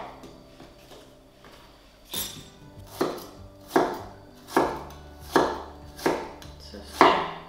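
Raw chicken being chopped into very small pieces with a knife on a cutting board, a steady run of about eight sharp, close chops after a quiet start, with no talking.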